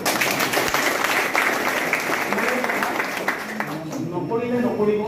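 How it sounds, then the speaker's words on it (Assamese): A crowd at a motivational speech event bursts into strong applause for about four seconds, then the clapping dies away and a voice takes over. "এবাৰ জবৰদস্ত হাত তালি"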